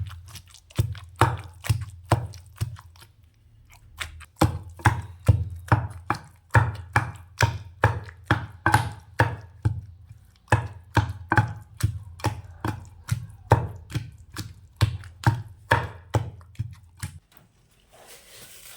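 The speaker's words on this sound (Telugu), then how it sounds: "సాల్టు, మిరప్పొడి, పసుపు, చింతపండు అన్నీ వేసి దంచుతున్నాం" Salt, chili powder, turmeric and tamarind pounded together for bitter gourd chutney, a run of sharp, evenly spaced thuds repeating steadily for the whole stretch, with two brief pauses.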